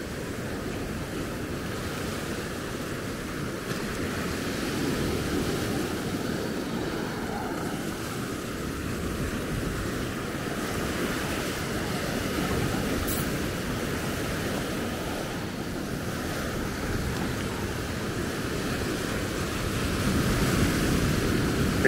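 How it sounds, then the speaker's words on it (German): Ocean waves and surf at Maspalomas, Gran Canaria roll in as a steady, continuous wash of breaking water at moderate volume, mixed with some wind noise, with no voices. "Ist das schön, auch jetzt gerade die Wellen hier mit dabei."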